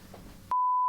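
A mobile phone gives off a single steady electronic beep that starts partway through and holds to the end, sounding loud and clear after a stretch of low background murmur.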